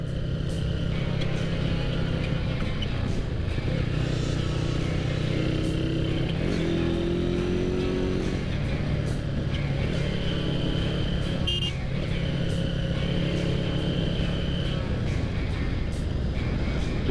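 Honda CB Tiger motorcycle fitted with a 300cc MX block, its engine running steadily and close by, with smooth harmonic drone and brief rises in pitch like light revving, no speech.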